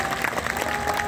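At a Shrimad Bhagavat religious discourse in Haldwani, an audience claps in honour of the Lord. The applause is a brief, dense burst of many hands that fills the moment without speech.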